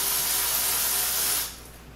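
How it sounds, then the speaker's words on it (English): Electric power tool unbolting an AC condenser from a radiator on a WRX, a close high buzzing whir that runs steadily for about a second and a half, then stops. "let's unbolt the AC condenser from the radiator, which we will do with this nice, fabulous electronic auto tool"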